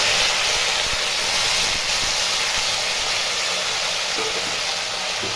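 Potato frying in mustard oil in a wok for a Bengali egg-and-potato fry, giving a loud, steady, dense sizzling hiss that runs unbroken throughout with no voices.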